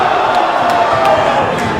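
A large wrestling crowd roars and cheers after a suplex, a dense, loud wall of voices with a few sharper shouts and claps cutting through.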